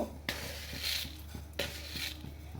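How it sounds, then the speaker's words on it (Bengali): Grated coconut and sugar dropped into a metal kadai, with two sharp clanks of a utensil against the pan and scraping, stirring rustles between them, close and clear. "নারকেলটা আমি কড়ার মধ্যে দিয়ে দেব। কড়ার মধ্যে দিয়ে তার মধ্যে আমি চিনি দিয়ে দেব।"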